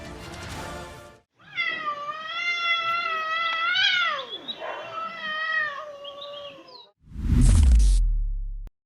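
A cat lets out a long, loud, wavering caterwaul lasting several seconds, drawn-out yowls rising and falling close by, followed by a sharp burst of noise.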